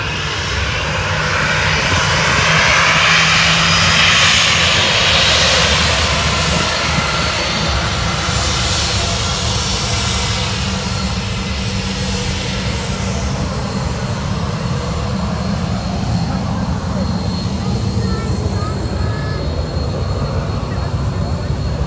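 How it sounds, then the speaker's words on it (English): An Austrian Airlines Embraer 190 regional jet arriving from Vienna roars steadily and loudly overhead, its broad engine noise sustained throughout with a faint rising whine. "Which in this case is a Embraer regional jet 190 belonging to Austrian Airlines, and it's coming to us from Vienna"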